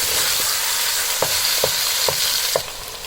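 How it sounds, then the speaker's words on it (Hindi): Minced meat sizzles steadily over a high flame in a pan, a continuous loud frying hiss broken by four sharp scraping stirs of a spoon at regular intervals. "अब इसमें ये कीमा शामिल कर देंगे और इसको हाई फ्लेम पे 4 से 5 मिनट तक अच्छी तरह से भून देंगे"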